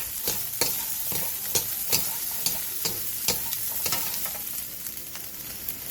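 Shishito peppers stir-fried with oil and salt in a pan over high heat give a steady close sizzle, broken by repeated sharp clacks and scrapes of a spatula tossing them at a regular pace.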